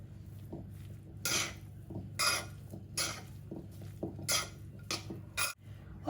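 Chopped ginger, garlic and other ingredients are stirred in a bowl, with a utensil scraping and clinking against the dish in irregular, quiet strokes and a few sharper knocks.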